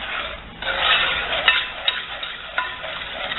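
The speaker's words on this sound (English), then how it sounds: "So now I'm going to mix this up very quickly so that the egg doesn't start to cook" Egg being quickly whisked into butterscotch brownie batter in a bowl, a steady close scraping stir with a few sharp utensil clicks against the side, no talking.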